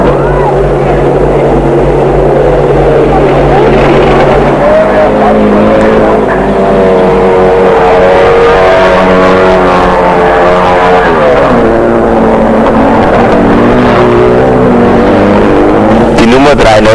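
Audi 100 race cars from a 1980 race roar past, loud engine tones rising and falling in pitch as they accelerate and shift, under steady commentary.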